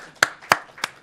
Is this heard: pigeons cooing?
no